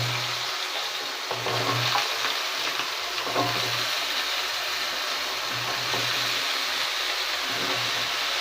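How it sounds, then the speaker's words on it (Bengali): Diced potatoes frying in hot oil for a potato and poppy seed dish, a continuous loud hiss and sizzle with a low hum pulsing underneath, no talking. "এই যে কుচো কুচো এই ডুমু ডুমু করে আলু কাটা আছে, এই আলুটা দিয়ে দেবো আমরা। তেলটা আমাদের হয়ে গেছে গরম, দিয়ে দিলাম।"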